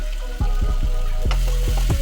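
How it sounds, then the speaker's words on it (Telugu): Onions with cumin and tomatoes frying in a pan, loud continuous sizzle broken by repeated spoon scrapes and knocks against the pan in an uneven rhythm. "నెక్స్ట్ టొమాటోస్ని కూడా బాగా ఫ్రై చేసుకోండి"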